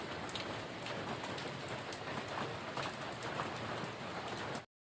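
Steady rain falls in a constant hiss, with scattered drops pattering on a nearby surface and no talking.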